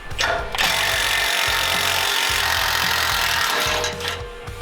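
A power tool, likely an impact driver or drill, runs loud and steady for several seconds as it removes two bolts from a bracket on a Honda Talon side-by-side, with a brief start-up and wind-down at either end.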